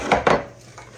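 Brownie batter being stirred with a cup of chopped pecans in a mixing bowl, two quick scraping clatters of spoon against the bowl up close, then quieter shuffling.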